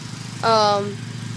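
A lawnmower engine runs with a steady, low droning hum throughout, and a brief voice sounds over it midway.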